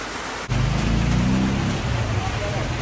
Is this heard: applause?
no